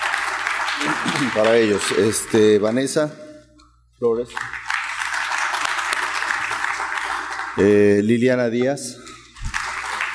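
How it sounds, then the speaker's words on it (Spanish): An audience applauds participants at a retina colloquium closing session, a continuous wash of clapping running under a man announcing names aloud, briefly dropping out midway before resuming. "Al final le pido un aplauso a todos ustedes"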